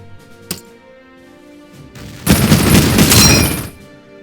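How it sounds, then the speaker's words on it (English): Troops open fire on German soldiers in the Battle Academy strategy game: a single sharp shot, then a dense burst of rapid gunfire lasting over a second, loud and close, with music faint underneath. "There are some Germans in there, so we're going to open fire"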